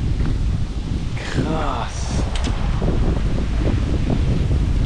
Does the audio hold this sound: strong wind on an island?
yes